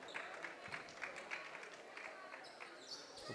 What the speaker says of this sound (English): some scattered applause from the Patriot fans here tonight